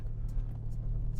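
Porsche Macan engine at light throttle during gentle driving, a steady low hum with road rumble from inside the cabin, even and continuous with no revving.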